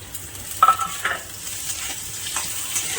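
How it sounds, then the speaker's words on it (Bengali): Chopped onion drops into browned garlic in a pan for a lentil and tomato dish, raising a soft, steady sizzle with a few scraping stirs, close and fairly quiet with no talking. "রসুনটা লাল লাল হয়ে গেছে, এবার আমি পেঁয়াজ কুচিটা দিয়ে দেবো।"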